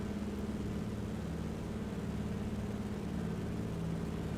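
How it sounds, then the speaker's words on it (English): Simulated aircraft engine in Microsoft Flight Simulator hums as a faint, steady low drone with no speech, holding an even tone throughout. "Notice my engine sounds in this sim have really changed a little bit recently."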